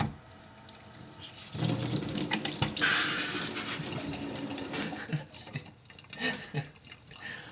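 Water running from the faucet into a workstation sink, a steady rushing splash that surges and changes as the flow is adjusted, close and loud with no talk.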